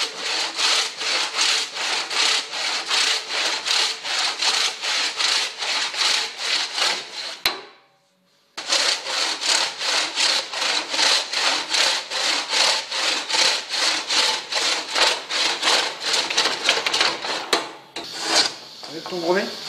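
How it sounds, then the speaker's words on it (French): Wooden beams for a power hammer base being sanded, a steady run of rhythmic rasping strokes, loud and close, broken by a one-second pause midway, with no voices. "j'ai poncé les 2 poutres. Maintenant il faut s'attaquer"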